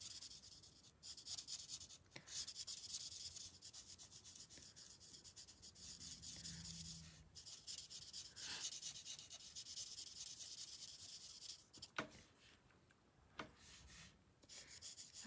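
Soft scratchy strokes of blending pencils coloring on paper, close and quiet, steady rubbing with occasional taps and pauses, no talking.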